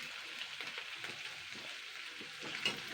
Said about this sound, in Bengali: এটাকে আমি একটু নাড়াচাড়া করে নেবো